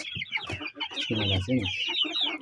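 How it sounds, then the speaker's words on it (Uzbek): Chickens cluck close by, with a rooster's throaty call in the middle, a lively mix of short bursts and longer squawks. "Qolganlari 6 tasi xo'roz."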